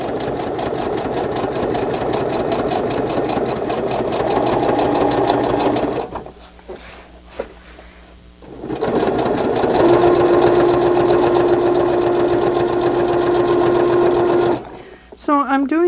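A sewing machine zigzag-stitches at 4.5 width and 3.0 length while a fabric nature-journal cover is finished, its close mechanical whirr running in two long stretches with a brief stop between them.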